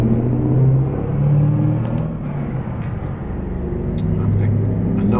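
V8 Mack R truck engine in American Truck Simulator on a snowy drive, a loud, deep rumbling drone that rises and falls with revving and a downshift, close and steady throughout.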